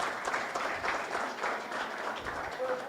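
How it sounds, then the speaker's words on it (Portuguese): An audience applauding a guest after a talk at an arts education session, a moderate, steady patter of clapping with some murmured voices mixed in. "Palmas para a Mara, gente."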